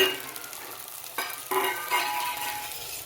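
Lilva beans fry in hot oil with ajwain, a steady close sizzle under stirring, with two sharp scraping clatters of a utensil against the pan partway through, no talk.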